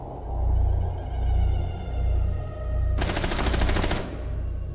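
Rapid automatic gunfire from a firearm in the video game Rainbow Six Siege, Park TDM Secure mode, a loud sustained burst of about a second over steady background game rumble with a couple of faint earlier pops.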